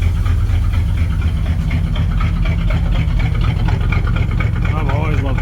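Engine of a 1983 Chevy square body truck running steadily after a valve job, a loud, constant low rumble with a rough throb, close by, with a faint voice near the end.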